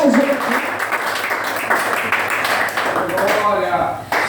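A church congregation applauds during a Portuguese-language worship service, a steady crackle of many hands clapping under a loud voice speaking and praising over it.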